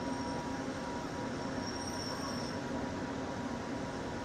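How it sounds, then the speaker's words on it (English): The Disneyland monorail train runs with a steady, continuous rumble and hum, with a faint high whine briefly rising above it. "Welcome aboard the Disneyland monorail."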